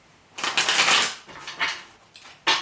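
Tarot cards being shuffled by hand, a loud riffling burst followed by shorter bursts, close up with no talking.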